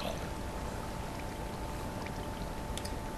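In a Minecraft game, water flows and pours in a steady, continuous wash that holds at an even, fairly quiet level with no break.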